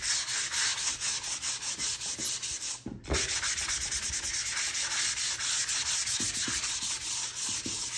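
Fine-grit sandpaper rubs steadily over a painted wooden sled in close, continuous back-and-forth strokes, with one brief pause partway through.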